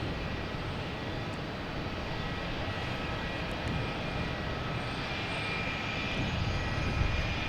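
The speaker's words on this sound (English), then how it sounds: "So we have Alaska Airlines out here, getting ready to take off, heading to San Francisco at 737-900." Alaska Airlines Boeing 737-900, flight 548 to San Francisco, taking off from Boston Logan, a continuous broadband engine roar building gently toward the end, moderately distant and heard without talk.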